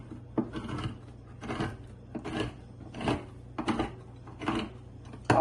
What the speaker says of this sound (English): Now I'm going to get our tomato sauce with our trusty can opener from